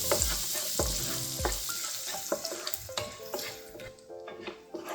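Finely chopped garlic sizzles steadily in a hot pan for palak paneer, with repeated clinks and scrapes of a spoon stirring against the metal.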